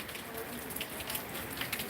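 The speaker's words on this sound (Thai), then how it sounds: "ดูสภาพ น้ำฝนแล้วนะครับว่า มันยังตกเรื่อยๆครับ" Steady morning rain on a Monday at the end of the rainy season, a faint, even hiss of falling water with soft scattered drips, continuous and distant.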